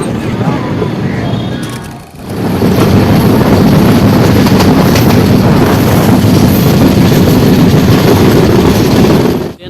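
A Garib Rath Express with LHB coaches pulls out of Sakri Junction, giving a loud, steady rolling rumble that dips briefly near the start and then holds constant to the end.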